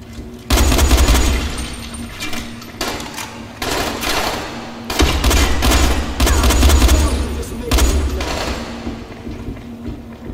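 Bursts of gunfire in the video game Dying Light, loud rapid volleys with heavy low thuds, broken into several long strings separated by short pauses.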